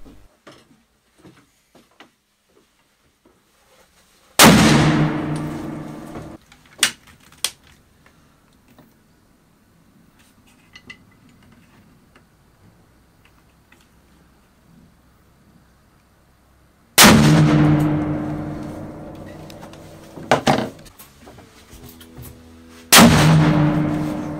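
Rifle shots fired by hunters sighting in their guns with new ammunition at a range in Lozère, France: a few sharp, loud reports with ringing decay, spaced apart, including close doubled shots, with quiet stretches between.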